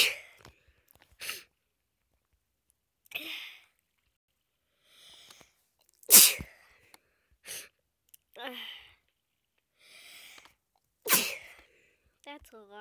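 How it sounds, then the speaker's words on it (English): A person sneezes repeatedly in separate sharp bursts, about seven spread over several seconds with quiet gaps and soft sniffs between them, close and fairly loud. "That's a lot of sneezes."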